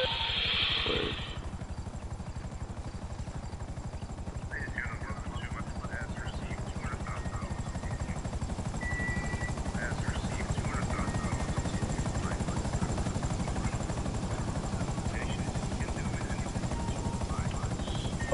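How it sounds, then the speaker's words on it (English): Helicopter in the basketball game NBA 2K21, a steady rotor drone running throughout, loud and continuous, with people talking over it. "Get in the chopper. I'm in the chopper."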